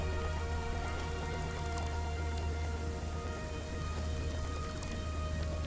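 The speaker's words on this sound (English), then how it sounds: "The rain is nice." Steady rain falls in a video game scene, a continuous even hiss of drops with a low rumble underneath and occasional faint high chirps, heard alone without talk.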